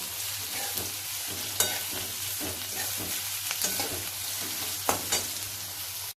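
About 200 grams of thinly sliced onions sautéing in a pan for a Tamil urulaikizhangu masala, a steady close sizzle with occasional stirring scrapes and clicks, no talking.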